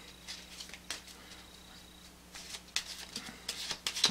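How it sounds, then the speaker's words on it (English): A deck of playing cards is mixed by hand during a close-up magic trick, giving several soft, quick riffling bursts that grow busier toward the end, with no talking. "just shuffle them up a little bit, have them mixed"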